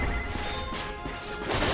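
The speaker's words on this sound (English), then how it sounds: "Look at him smashing crates." Crates smashed by Ratchet in the Ratchet & Clank game on Planet Novalis, a few quick cracking breaks amid dense game noise, fairly quiet overall.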